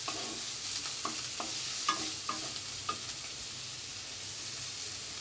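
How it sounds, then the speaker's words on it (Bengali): Chopped onion with garlic frying in a pan over lowered gas heat, a steady soft sizzle with a run of light scraping stirs early on, faint and close, no voices. "গ্যাসের আঁচটা কমিয়ে এরপর আমি এটাকে নেড়ে চেড়ে ভাজতে থাকবো।"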